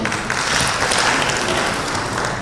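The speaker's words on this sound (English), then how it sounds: "Please clap for me." An audience at an awards gala dinner bursts into dense, sustained applause that fills the hall with close, bright clapping from start to finish.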